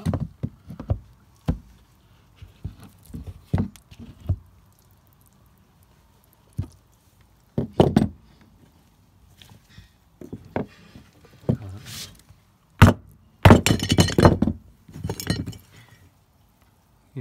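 A glued wooden dowel joint, bonded with exterior wood glue, being levered and pried: scattered sharp knocks and woody clicks come in short bursts, with a denser cluster of creaking strain near the end, close and fairly loud, no talk.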